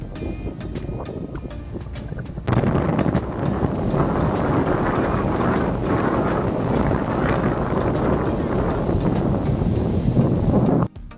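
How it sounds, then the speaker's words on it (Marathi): Strong wind sweeps across Kondhura beach on the Konkan coast, buffeting the microphone. A quieter start gives way to a loud, constant roar from about two and a half seconds to the end. "वारा पण बघा ना किती आहे, भारी वाटतंय."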